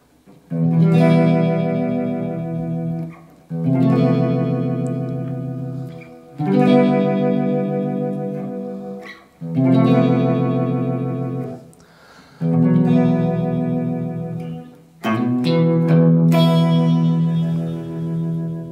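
Clean electric guitar through a Uni-Vibe pedal into an amplifier's clean channel, strummed in repeated chord phrases with a swirling, pulsing modulation, about six bursts separated by short pauses, loud and alone.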